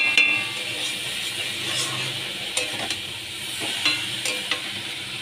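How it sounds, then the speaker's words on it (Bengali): Shredded cabbage cooked with sugar is stirred in a pan, giving a continuous close sizzle and hiss with a few light scrapes of the spoon against the metal. "চিনি দিয়ে ভালো করে নেড়ে নিতে হবে"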